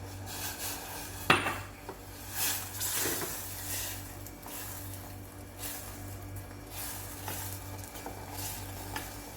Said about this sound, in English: And we have to keep mixing it and make a panade out of it.